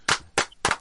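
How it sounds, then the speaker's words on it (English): Three separate, sharp hand claps spaced evenly apart, quiet and close, with nothing else around them — a sparse scattering of applause for actor Frank Grillo. "Ladies and gentlemen, round of applause for Frank Grillo."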